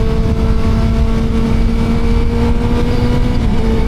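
A Suzuki GSXR 600 sport motorcycle riding along, its engine a loud, steady droning hum with a sustained tone and constant wind rush, no clear revving changes.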